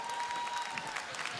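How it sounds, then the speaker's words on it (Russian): Audience applause at an RU TV award show, a dense, steady patter of many hands clapping at moderate distance, continuous through the short stretch. "Ваши аплодисменты, друзья,"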